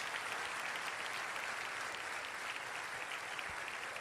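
Steady, dense clapping from a congregation at a Christian college's inaugural class, even and unbroken for four seconds, heard at a slight distance.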